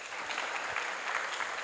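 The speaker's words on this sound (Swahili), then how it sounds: "Makofi zaidi jamani." An audience at a student investment challenge event claps steadily, a moderately faint, even wash of applause with no voices over it.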